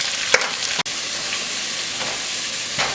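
Thinly sliced yellow and red onions sizzle steadily in a pan as they cook down, a close, even hiss broken by a couple of sharp stirring clicks, no voices.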